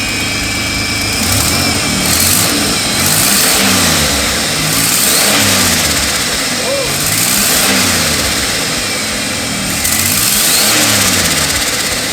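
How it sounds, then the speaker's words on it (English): A turbocharged Ecotec engine in a project car with exhaust leaks revs repeatedly, loud and close, each rise and fall of the engine clearly audible, while people talk over the engine noise. "Oh, give it a rev."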